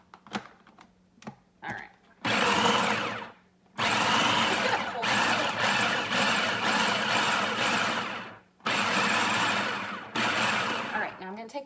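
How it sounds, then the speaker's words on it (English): A food processor blends beet hummus with olive oil, its loud whirring motor running in long continuous bursts separated by short pauses, with a few sharp clicks and brief speech at the start. "And I'm going to go ahead and start processing. I just love my food processor."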